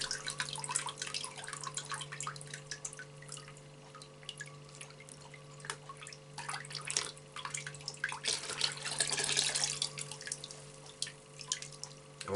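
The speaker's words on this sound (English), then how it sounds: "we'll just let that drip out a bit there." Water dripping from a gas mask after washing, with scattered small drips and trickles at a faint, close level and a steady low hum underneath.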